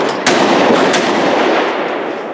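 A tactical shotgun fires on an outdoor range: two close, loud blasts a little under a second apart, with the boom of the first shot still ringing and rolling into a broad sustained echo and range noise.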